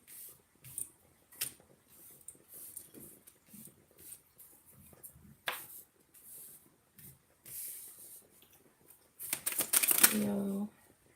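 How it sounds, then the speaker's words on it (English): A deck of tarot cards is shuffled in short bursts of riffling and sliding, soft and close, with pauses between, ending in a louder flurry of handling. "this will be our final shuffle"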